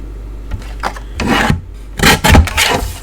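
Cardstock being trimmed for a centre step easel card, giving a few short rasping cutting strokes, close and fairly loud, with quieter gaps between them and no talking.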